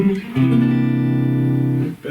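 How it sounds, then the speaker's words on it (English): Electric guitar played on its neck pickup alone: a single clean, warm chord strummed after a brief pick attack and left to sustain for well over a second before stopping. "With the switch up like this, I'm using the neck pickup."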